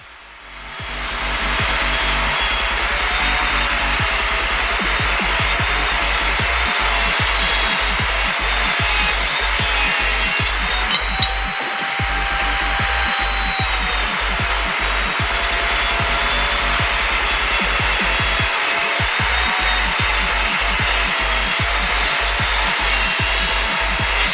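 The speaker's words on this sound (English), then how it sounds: "We're going to get those cut down to 45-degree angles on the miter saw" A miter saw cuts 1.5-inch wood stock at 45-degree angles, a loud sustained whine with steady rhythmic grinding running almost without a break, close up and alone.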